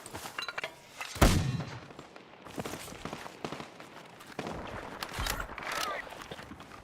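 Mortar fire in a Battlefield 6 battle royale match, several sharp booming blasts with rumbling tails scattered over a few seconds, one especially loud and close, others more distant.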